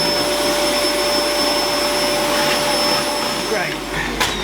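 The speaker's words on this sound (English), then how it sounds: "Quick hoover now," A hoover vacuum cleaner runs close and loud in a workshop, a steady high-pitched whine and roaring suction that holds level and then dips briefly near the end.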